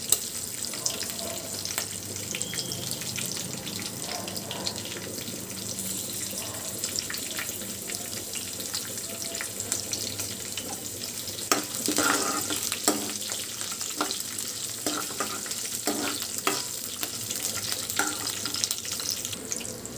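Curry leaves crackle and fry in hot oil for a ridge gourd chutney, a steady, moderately loud sizzle running throughout with a few brief sharper pops.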